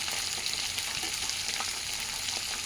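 Garlic sizzling steadily in hot oil while fenugreek leaf chutney is cooked, a dense, continuous crackle with faint stirring scrapes throughout.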